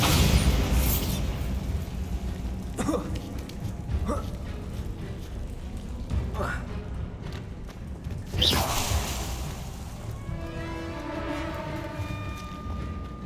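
A Bombarda spell blast in Hogwarts Legacy on Xbox Series X: a whooshing burst into a booming explosion amid other spell impacts and rumbling combat noise, with a few sharp hits spaced across the scene.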